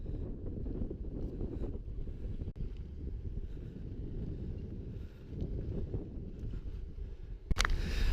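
On a ferry crossing of about twelve miles, steady wind buffets the microphone over a low rumble of the boat, with a sharp knock or bump near the end.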